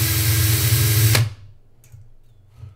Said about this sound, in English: Drill's happening for all headphone users.